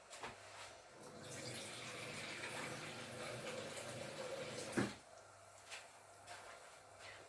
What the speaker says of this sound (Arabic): ماء سخون راني نزيد فيه مش ماء بارد